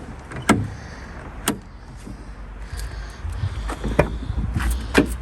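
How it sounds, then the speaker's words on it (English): Several sharp clicks and thuds from the doors of a Peugeot 309 1.9 diesel being opened one after another, spaced a second or more apart over a low, steady background hum. "Opening doors."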